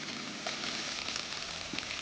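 Raw mutton frying in a pan with sautéed ginger, garlic and onion, giving a steady, even sizzle with faint crackles throughout, close and moderately quiet with no talking.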